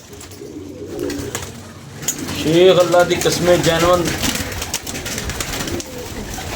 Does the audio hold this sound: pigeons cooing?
yes